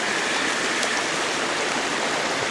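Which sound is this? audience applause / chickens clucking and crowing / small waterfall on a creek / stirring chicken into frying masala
small waterfall on a creek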